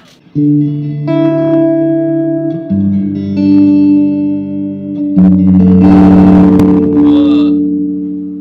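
A Fender Champion 100 guitar amp played with combined reverb and delay: sustained electric guitar chords ring out with a washy, echoing tail, growing louder and busier toward the end, with no voices.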